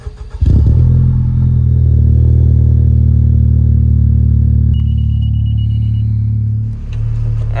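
Honda Civic Type R engine heard from inside during a ride on the stock clutch, a loud steady drone that holds under load, with a high whine entering partway through and a brief dip near the end.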